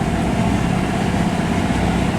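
Sailboat engine running at full RPM in reverse while anchored, a loud, steady, dense low engine drone that continues without a break and with no talking.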